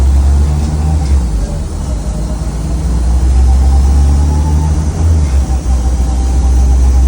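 A turbocharged Honda Civic FN2 engine runs under load on a dyno during a power run in fourth gear, giving a loud, steady low drone that holds throughout, with a faint voice briefly underneath.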